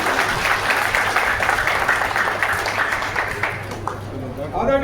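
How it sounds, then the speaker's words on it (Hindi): An audience at a Patel Seva Sangh gathering in Patna claps steadily, a dense patter of many hands that swells and then tapers off toward the end. "एक बार जोरदार ताली बजा के"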